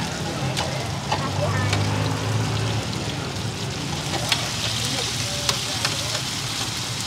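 Taro cakes deep-fry in a roadside vendor's oil, a steady dense sizzle with occasional clinks and scrapes of stirring, while voices talk nearby.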